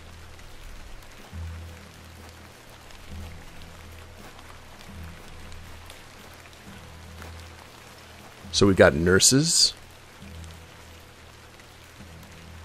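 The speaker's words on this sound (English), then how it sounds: "Let's get out of the rain." Rain pattering steadily on surfaces in the video game The Excavation of Hob's Barrow, a soft continuous wash under low background music, broken by a brief burst of speech near the end.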